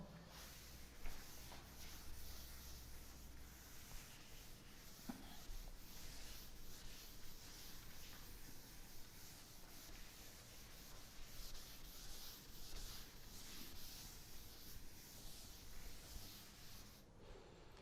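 A board being wiped clean of writing, with repeated soft rubbing strokes faint against a quiet room over an extended stretch.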